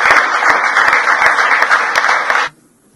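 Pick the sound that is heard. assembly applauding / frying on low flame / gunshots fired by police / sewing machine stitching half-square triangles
assembly applauding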